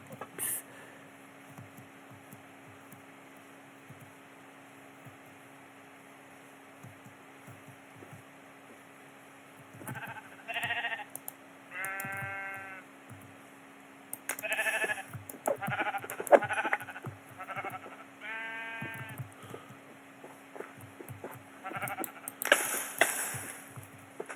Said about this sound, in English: Let's go and hunt down some sheep real quick.